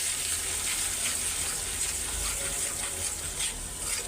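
Ground spice paste sautéing in a pan with fried onions, turmeric and salt, giving a steady, even hiss of sizzling with no pauses and no talking.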